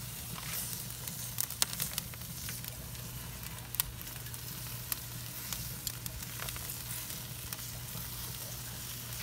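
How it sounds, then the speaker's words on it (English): A tomahawk steak sears on a hot grill, giving a quiet, steady sizzle with scattered small pops and crackles over a low background hum. "It's searing away, it's still cooking"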